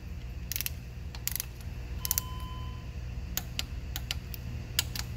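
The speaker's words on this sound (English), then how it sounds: "so you torque them all" A torque wrench ratchets in short bursts while tightening the water pump bolts on a DD15/DD13 diesel engine, with clear separate clicking runs over a steady low background hum.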